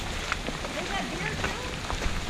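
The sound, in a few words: rain falling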